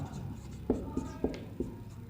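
A pen writes notes by hand on a board or paper during a profit-and-loss maths lesson, giving four soft taps and strokes in an uneven rhythm over a quiet room.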